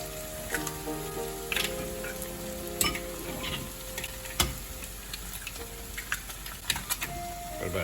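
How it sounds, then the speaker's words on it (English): Eggs cracked into a hot pan with frying peppers give a soft continuous sizzle, punctuated by faint clicks and taps of shells and utensils, close but quiet with no voices. "We're just gonna crack the eggs in here"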